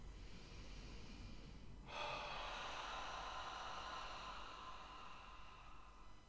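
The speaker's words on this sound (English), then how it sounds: "So breathing in through the nose and then out through the mouth." One person breathes slowly and quietly, drawing a soft breath in through the nose, then letting out a longer, breathy exhale through the mouth, close and alone against faint hiss.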